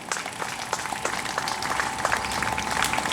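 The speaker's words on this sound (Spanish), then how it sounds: "Dale un aplauso a Jesucristo." A church congregation claps during a Spanish-language service, a brisk, fairly loud patter of hands with scattered sharper claps and a faint sustained tone underneath.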